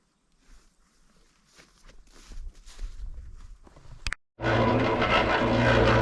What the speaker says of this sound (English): I apologize for the loud noise of this machine.